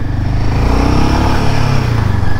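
Royal Enfield Himalayan 450 motorcycle engine while riding in city traffic, a steady, smooth mid-pitched drone with constant wind noise, loud and continuous.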